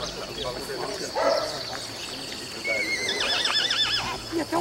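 A horse whinnies outdoors somewhere in Rio de Janeiro, a loud wavering neigh near the end after shorter calls, with hoof clops, a dog and birds nearby and people talking.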